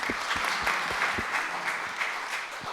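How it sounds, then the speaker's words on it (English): An audience applauding a speaker at a practice event, a steady round of clapping from a modest crowd, fairly close and continuous throughout. "Another round of applause."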